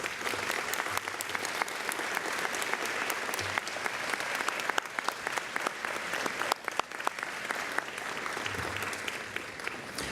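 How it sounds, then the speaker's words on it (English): A luncheon audience claps for an award recipient walking to the podium, a fairly quiet but steady spread of clapping with sharper individual claps standing out, lasting throughout. "Would you please join me in a round of applause for this year's recipient as he makes his way to the podium, Representative Louis B. Stokes."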